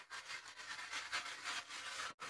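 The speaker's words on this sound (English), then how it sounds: "Take your pumice stone. Give it a good scrub." A pumice stone scrubs a Blackstone griddle in quick, close back-and-forth rasping strokes that keep a steady gritty texture, then stop briefly near the end.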